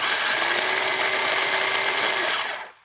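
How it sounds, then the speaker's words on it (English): Food processor pulsing peanuts into a fine crumb, a loud, steady whirring grind of blade and nuts that holds for over two seconds and then cuts off, with no talk. "I just really want to pulse those peanuts, not to the point of peanut butter"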